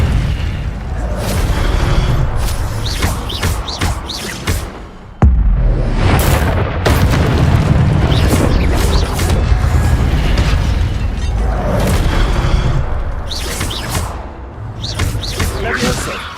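Incendio fire spell blasts go off in Hogwarts Legacy combat, loud booming bursts and crackling whooshes packed densely together among other spell effects, with a voice shouting over the din.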